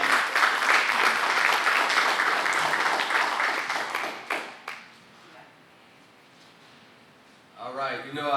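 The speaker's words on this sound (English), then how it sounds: "Let's give him a round of applause." A crowd applauds an alderman with strong, dense clapping for about four seconds before it trails off into near silence, then a voice begins speaking.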